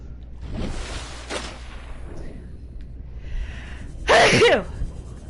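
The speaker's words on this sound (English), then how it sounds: "that sneeze hurt my chest" A single loud, sharp sneeze near the end, preceded by quieter breathy sounds and a faint voice.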